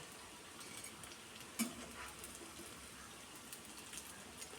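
A snack of onion and potato fries in oil while pieces are scooped out, a faint, steady sizzling hiss with one soft knock partway through.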